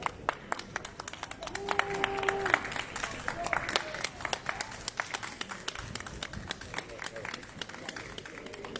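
Scattered clapping and cheering from a crowd at an outdoor protest, sharp hand claps spread across the whole stretch over a busy murmur of voices and people talking.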